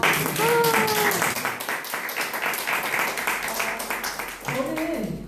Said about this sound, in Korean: 박수 한번 치고.